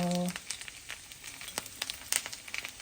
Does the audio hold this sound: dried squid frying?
yes